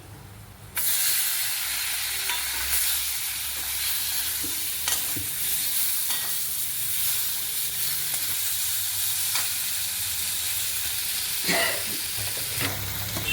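Thinly sliced tomatoes frying in a pan for a chhena curry, giving a steady close sizzle and hiss with occasional stirring clatter, loud and continuous after a quiet start.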